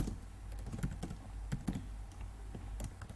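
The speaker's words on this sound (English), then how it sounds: "I can go ahead and just type" Someone types quickly on a computer keyboard while entering a short line of Python code, producing a steady stream of light, close key clicks with occasional heavier taps, under a low background hum.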